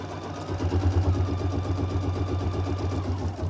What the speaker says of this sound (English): Now it's going to stitch down the pocket lining.